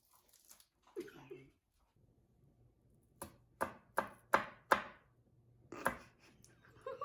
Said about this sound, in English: That's not how I chop onions.